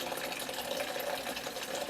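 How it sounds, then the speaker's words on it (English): Tap water runs steadily into a bucket during a lecture demonstration, a continuous broadband splashing hiss at close range that stays even throughout, with no talking over it. "So I'm turning the water on."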